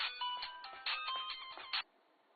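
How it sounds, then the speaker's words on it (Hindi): A phone ringtone plays indoors in a melodic, repeating pattern at moderate level, stopping abruptly after about two seconds, with no talk over it. "तुम्हारा फोन बज रहा है।"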